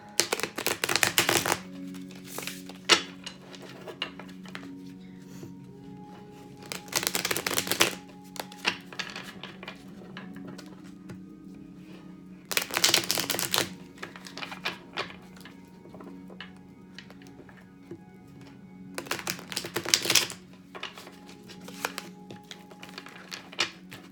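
Tarot cards are shuffled in several short, crisp bursts separated by pauses, close and fairly quiet against a faint background hum.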